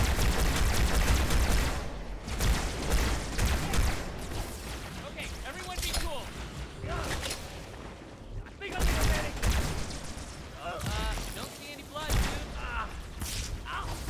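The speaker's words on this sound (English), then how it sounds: "Dude, these grenades are so accurate!" Rapid gunfire and explosive blasts from Halo 2 combat, likely including grenade explosions, rattle almost nonstop at close range, with voices talking over the battle.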